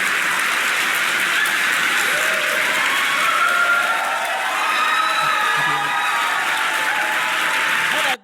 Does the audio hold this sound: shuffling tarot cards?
no